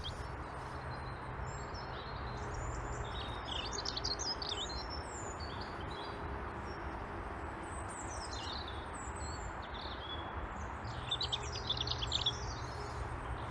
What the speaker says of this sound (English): we've got a robin. But with this camera, I won't pick him up because he's actually right in amongst the branches. And he's singing away.